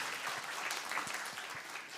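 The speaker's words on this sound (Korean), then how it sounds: "다시 한번 큰 박수 부탁드립니다" Audience applause for a professor after a talk, a steady wash of clapping from a crowd filling the whole stretch at moderate volume with no break.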